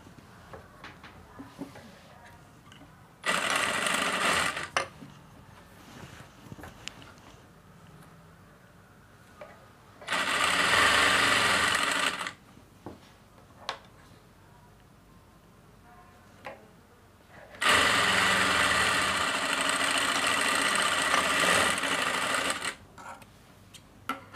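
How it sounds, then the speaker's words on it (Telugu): Sewing machine stitching the curved edge of a pants side pocket, three separate runs of steady mechanical whirring, each a few seconds long, separated by quiet gaps with faint handling ticks, close and alone. "ఈ సెంటర్ పాయింట్ని ఇలా పట్టుకుని ఈ కర్వ్ని స్టిచ్ చేసుకోవాలి"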